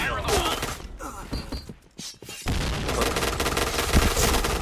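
MP9 submachine gun firing in the shooter game PB, rapid dense bursts of gunfire that pause briefly midway and then resume in a continuous loud stream, with game mechanism sounds mixed in.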